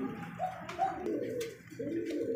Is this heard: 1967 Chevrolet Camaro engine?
no